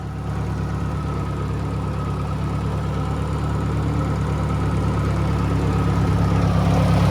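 A Ford 871 tractor engine running steadily while driving around a farm, with a loud, constant low mechanical drone and an even harmonic hum throughout.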